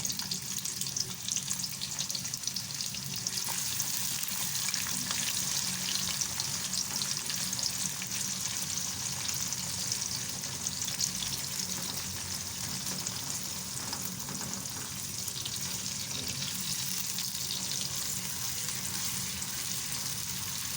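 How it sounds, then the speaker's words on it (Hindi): Onions sizzle and fry steadily in hot ghee for a white chickpea dish, a constant close crackling hiss with occasional stirring, no voices over it. "जैसे ही हमारा घी गर्म होगा, अब हम इसके अंदर प्याज ऐड कर देंगे।"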